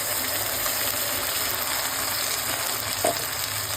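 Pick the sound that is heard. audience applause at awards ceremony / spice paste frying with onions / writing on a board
spice paste frying with onions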